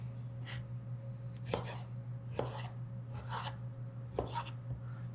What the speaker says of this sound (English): Just gonna cut them into some cubes.